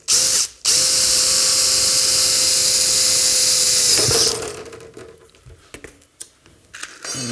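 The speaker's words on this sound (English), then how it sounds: "All right, let's go ahead and drill. Let's do the corner hole first." A power drill bores a hole through polycarbonate sheet and aluminum with a loud, steady whine. It stops briefly near the start, then runs for several seconds before winding down into scattered handling clicks.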